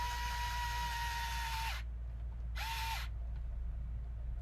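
A power drill spins a bolt into a 3D-printed plastic wheel for a crawler, whining steadily in two bursts, a long run then a brief one, each ending in a falling pitch as it winds down.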